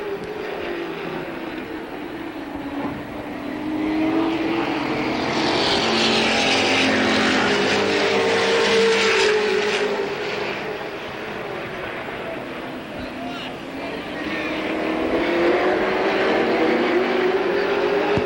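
Late model and sportsman race car engines roar around a track in 1985, swelling as they pass close and fading as they move away, in a continuous loud drone.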